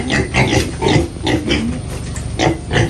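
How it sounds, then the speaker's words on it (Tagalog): A pig in a rural Mindoro pen grunts and oinks loudly and close by, a rapid series of rough snorting bursts with brief gaps between them. "may baboy na rin pala dito sa ating kulong"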